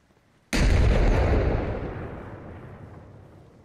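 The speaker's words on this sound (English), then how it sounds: "I'm pretty sure those explosions are geos" A sudden heavy blast from in-game explosives bursts in loud and close, then rumbles and fades slowly over the next few seconds with no voices.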